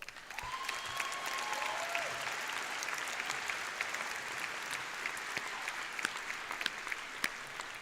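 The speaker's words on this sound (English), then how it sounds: "a round of applause" Sustained applause from a seated crowd at a SUNY Oswego commencement ceremony, moderately distant and steady for several seconds, with a short voice fragment near the start.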